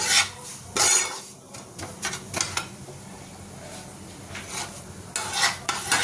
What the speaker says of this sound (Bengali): পুরো চুপু চুপু তেল দিয়ে ভেজে দিচ্ছি সরি ঘি দিয়ে